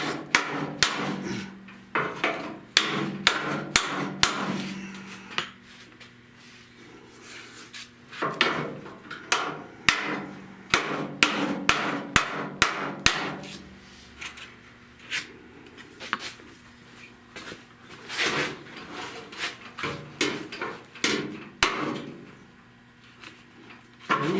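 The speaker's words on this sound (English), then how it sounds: "I want to hammer this." Repeated sharp metallic hammer blows on a 1970 Buick Wildcat fender in uneven bursts, loud and close, with pauses and some clattering between the strikes.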